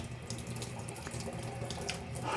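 A kitchen tap runs steadily into the sink before dishwashing, a continuous, close rush of water that is even and unbroken, with no voices.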